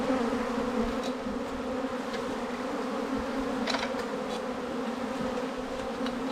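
A steady, low buzzing of a swarm of bees being retrieved drones throughout, with a few brief louder buzzes as individual insects pass close.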